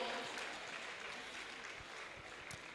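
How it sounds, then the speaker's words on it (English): Steady audience applause at a celebration honoring a celebrant and his wife, a dense continuous wash of clapping at moderate distance with faint voices mixed in. "A round of applause for the celebrant and wife, ladies and gentlemen."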